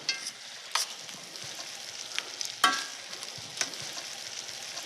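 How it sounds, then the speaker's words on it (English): Sliced onions cook in balsamic vinegar in a pan, giving a soft steady sizzle with a few sharper clicks and scrapes of stirring scattered through, heard close and alone. "let it cook a little bit in the vinegar"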